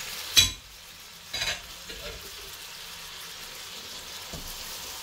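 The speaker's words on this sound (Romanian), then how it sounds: "Mai lăsăm să se călească pentru încă circa 2-3 minute." Boiled chicken gizzards sautéing in a pan for a creamy pilaf, a soft, steady background sizzle broken by a few brief stirring scrapes, with no talk.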